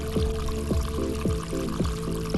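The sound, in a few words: water splashing in a mobile video game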